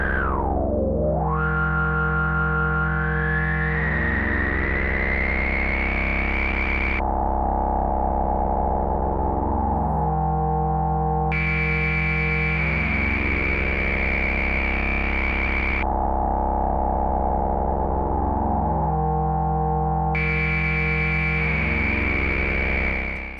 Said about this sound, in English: that square wave LFO impacting the cutoff